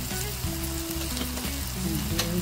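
Onion, tomato and spices fry in a pan for squid masala with a dense, constant sizzle close by. A low hum sits beneath the hiss, and there is no talking.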